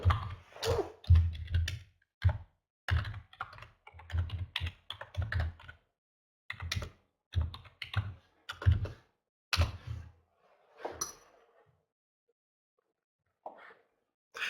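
Keys tapped on a computer keyboard while an email is written, bursts of close clicks and thumps in uneven clusters, trailing off into near silence with a few stray taps.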